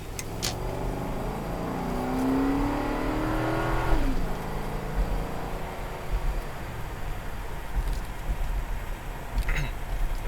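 Cadillac Seville engine revving as it accelerates, a loud rising roar without its resonator, then settling into a sustained rumble with road noise, heard from inside the car.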